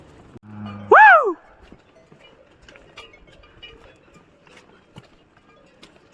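Faint, irregular clanks of cowbells and hoof sounds from walking oxen, with one loud brief call near the start, the rest quiet and distant.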